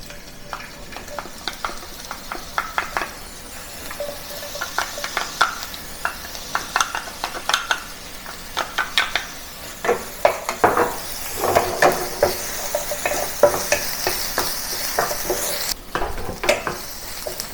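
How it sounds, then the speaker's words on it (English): Ginger, garlic, dried chili and green onion sizzle in hot peppercorn-infused oil while being stir-fried, with repeated scraping and clinking of a utensil against the pan at an uneven rhythm. "use the peppercorn infused oil to saute the ginger, garlic, dried chili, and the green onion"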